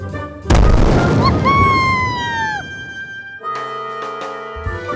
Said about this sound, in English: They throw their magic into the sky. Boom! A beautiful blast.